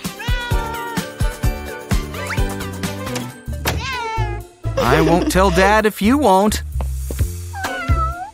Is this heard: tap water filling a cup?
no